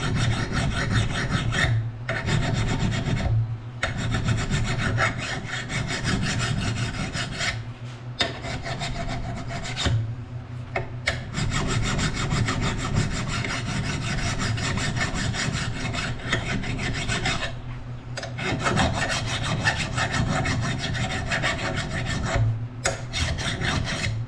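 A flat file sharpening a lawn mower blade, with steady continuous rasping strokes that run on nearly without pause, close and fairly loud with no talk.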